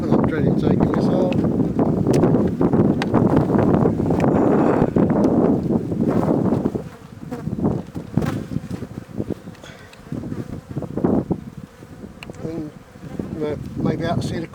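Honey bees hum from an opened hive during a spring inspection, a dense steady drone under a voice talking close by, thinning after a few seconds while he keeps talking.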